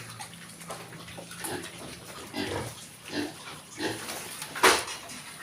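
Piglets about 37 days old grunting at snack time in a pen, a run of short, rough grunts repeating every half second or so at moderate, close range, with a sharper squeal near the end and a steady low hum underneath.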